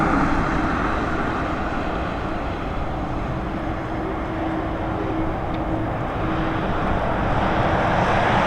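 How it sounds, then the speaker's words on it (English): An Aer Lingus Airbus A320 jet in rugby livery arrives at Dublin Airport from Charles de Gaulle, its engine noise a sustained, dense roar with a faint steady hum, unbroken and fairly loud throughout. "Our next arrival coming in from Charles de Gaulle, the rugby liveried Airbus A320 operated by Aer Lingus"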